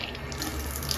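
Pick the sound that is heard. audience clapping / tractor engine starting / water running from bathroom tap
water running from bathroom tap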